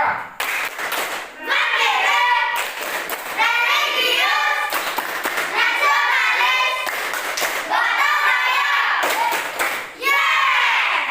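Sixth-grade schoolchildren in a classroom perform a patterned rhythmic clapping routine, bursts of unison claps alternating with short pauses, while young voices chant along with the rhythm.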